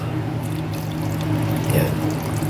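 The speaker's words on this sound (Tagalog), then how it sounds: "Tapos ngayon lalagyan po natin siya ng pinakatubig po." Water poured into a pot of hasa-hasa fish sinigang, a steady close pour with a low liquid rush lasting throughout, no talk.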